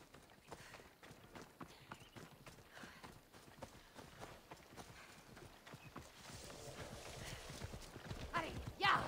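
A horse's hooves clip-clop in a quick, steady rhythm as it travels in Assassin's Creed Odyssey, with game ambience and muffled voices underneath that grow louder toward the end.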